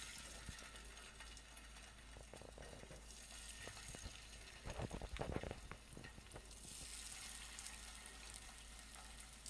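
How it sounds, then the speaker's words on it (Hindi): Chicken pieces fry in hot oil over medium-low heat, giving a steady broadband sizzle with a brief louder stirring clatter midway, close and continuous with no talking. "तो अब हम जो है सो अपना चिकन फ्राई करेंगे।"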